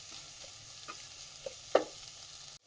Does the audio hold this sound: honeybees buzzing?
no